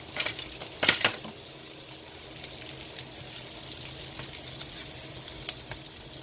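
Chopped white onion cooks in a pot over medium heat, giving a soft, steady sizzle with a few louder stirring scrapes near the start and a brief clink partway through.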